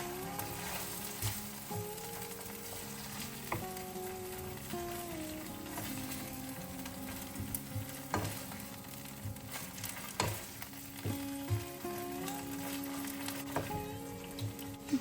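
Vegetables frying with tomato sauce as they are stirred in a pan, a steady close sizzle with scraping strokes and occasional sharper clinks, alone without talk.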